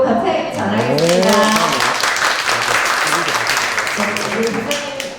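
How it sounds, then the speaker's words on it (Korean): An audience claps at a lecture event on the future of jobs, with steady applause and a voice speaking over it at the start. "우리 다시 한번 큰 박수로 감사의 전하겠습니다"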